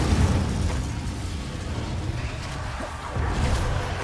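The Incendio fire spell is cast in the video game Hogwarts Legacy, producing a steady, loud roaring blast of fiery rumble and whoosh that holds for several seconds, with no speech.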